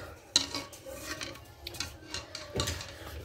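Butter being worked into sello dough in a bowl by hand, with soft stirring and rubbing scrapes and a few sharper utensil knocks against the dish, close and fairly quiet.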